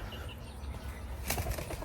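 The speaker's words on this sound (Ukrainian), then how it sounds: "птахи літають." Birds fly past outdoors with a brief flurry of flapping wings around the middle of the clip, faint against steady background noise.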